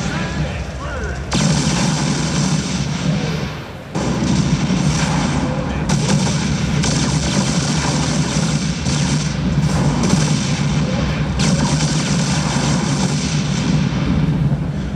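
StarCraft II Viking fighters fire missiles in a dense, continuous barrage of booms and blasts, loud and layered throughout, with a voice talking over the battle sounds.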